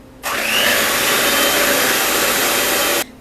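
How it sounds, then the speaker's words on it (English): An electric mixer beats egg whites into stiff peaks for a gluten-free key lime pie, a loud, steady whirring motor that switches on abruptly and runs for about three seconds before cutting off. "I need to beat my egg whites into stiff peaks"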